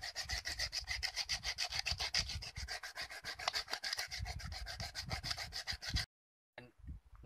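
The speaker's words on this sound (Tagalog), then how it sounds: "Natapos na natin siyang lihain" Sandpaper rubbed briskly back and forth over a coconut shell for a hanging pot, making fast, even rasping strokes close up that stop abruptly, followed by silence and a faint brief rustle.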